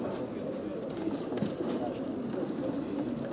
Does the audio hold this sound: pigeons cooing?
yes